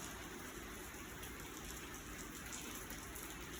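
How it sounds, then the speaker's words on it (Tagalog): Steady, even hiss of rain falling, soft and continuous with no voices. "Maghapon na lang itong ulan natin."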